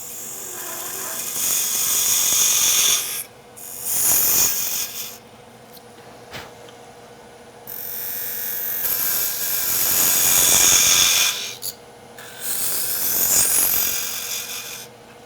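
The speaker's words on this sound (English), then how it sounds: "I'll use the parting tool to reduce the waste here at the end" Wood lathe parting tool cutting into a turned wooden mortar blank, a steady rasping scrape that comes in three long passes separated by short pauses, close and fairly loud with no talk.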